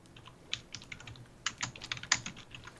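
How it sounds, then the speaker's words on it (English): Quick bursts of computer keyboard typing with irregular clicky keystrokes, close and fairly quiet, during a Minecraft Pixelmon game session, with no talking. "I typed something wrong."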